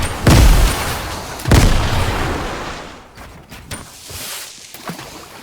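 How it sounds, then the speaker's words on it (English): Grenade explosions in Fortnite Chapter 2 Season 3, two loud booms close together at the start, each followed by a long rolling decay, then scattered quieter blasts and impacts further off. "thus begins the grenade spam"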